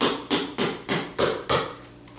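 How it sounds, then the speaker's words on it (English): A hammer flattens a small wire loop against a hard surface with six sharp, evenly spaced metallic strikes, close and loud, followed by a short quiet tail. "You are going to hammer your little loop flat."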